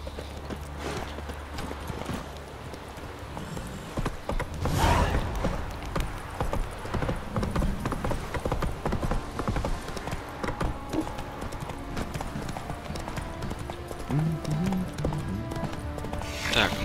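Horse hooves clip-clop in The Witcher 3: Wild Hunt, a steady rhythmic trot that stays fairly close and runs through the whole stretch, mixed with game ambience and a brief whinny-like burst.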